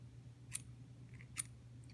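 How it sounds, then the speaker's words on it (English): Scissors snip through frayed sewing thread on an old Singer 14U52A serger, giving two quick, crisp, close cuts over a low steady hum. "I'm going to cut my thread because it's frayed."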